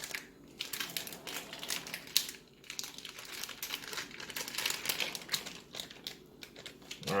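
Ziploc plastic bag being handled and sealed while preparing spicy fried chicken, close crinkling and crackling with irregular bursts of rustle throughout, fairly quiet, no talk.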